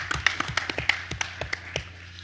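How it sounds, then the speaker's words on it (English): Applause from a conference audience, heard as sparse, separate claps at an uneven rhythm rather than a dense ovation, fairly faint and quickly thinning out. "Give them a round of applause"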